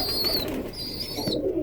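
Pigeon cooing close up indoors, soft low throaty coos alongside a thin high whistling tone, loud and without talk.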